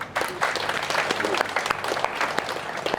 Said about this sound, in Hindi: इस बात पर तो ताली बजनी चाहिए।